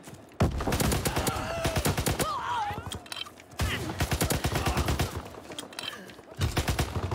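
Rapid gunfire in the video game Call of Duty: WWII, dense repeated shots in two long bursts with a short gap, loud and close, with a little speech mixed in.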